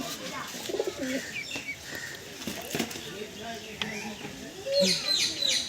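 Pigeons coo softly in a loft kept for breeding and sale, with chirps and occasional wing flutters under a man's nearby speech.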